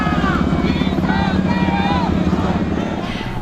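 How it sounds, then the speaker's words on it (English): Helicopters hover above the parliament building in Seoul during a night of political crisis, giving a steady rotor drone with a rhythmic chop and faint higher tones over roughly three and a half seconds. "Helicopters hovered above the parliament building"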